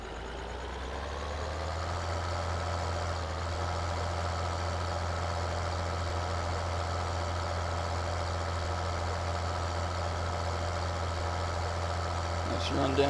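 A tractor engine idles in Farming Simulator 2013, a steady low rumble with a constant drone that runs unbroken at an even level throughout, with no voice over it.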